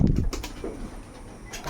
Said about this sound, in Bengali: এই হচ্ছে আমার ছোট্ট লফের অল্প কিছু পায়রা।